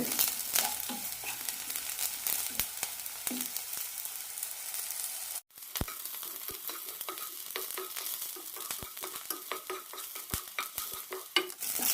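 Small shallots fry in a pan while being stirred, a constant close sizzle broken by sharp clicks of the spoon against the pan, a brief pause partway through, with no talking.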